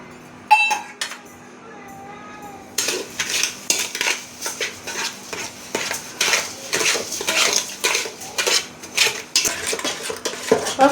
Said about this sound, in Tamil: சர்க்கரை போட்டு கலந்துக்கலாம்.